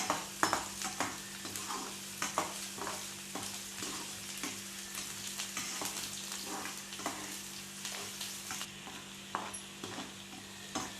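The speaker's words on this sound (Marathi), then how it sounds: "व्यवस्थित छान असं आपण कांद्याचा परतून घ्यायचा आपल्याला" Chopped onions sautéing in a pan for broccoli sabji, a steady soft sizzle for about eleven seconds broken by regular close scrapes and taps of a spatula stirring, no talk.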